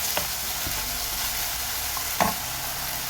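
Shallots being sautéed in a pan while making a jackfruit and prawn curry, a steady close sizzle throughout with two brief louder scrapes of stirring, no voices.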